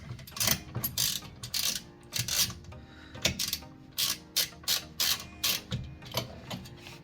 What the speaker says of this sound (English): However, this is fastened with that 1/4 inch. So I'm going to put that on here, this socket.